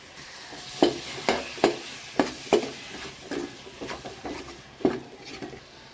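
Masala and tomatoes sautéing in oil for a Tamil fish curry, with a spoon scraping and tapping the pan in a steady rhythm of sharp clicks over a faint, continuous sizzle; no one speaks.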